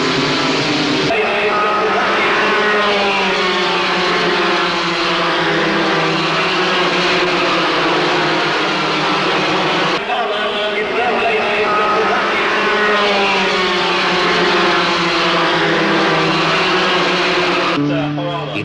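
1981 Toyota-powered Formula 3 race cars at speed on a circuit. Loud, continuous engine howl with rising and falling pitch as cars pass, heard for the full length, with brief cuts between shots.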